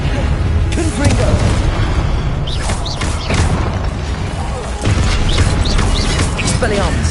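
Confringo blasting spells exploding in a Harry Potter wizard duel, a run of heavy booming blasts and crashes that come one after another in quick succession, with voices underneath.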